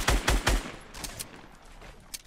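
Enemy gunfire in the video game Fortnite: three quick, loud bursts of shots right at the start, followed by fainter scattered pops and clicks.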